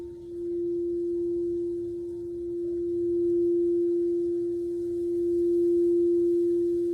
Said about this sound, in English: join me today in cleansing my special new chakra bowl. We can do that with sound.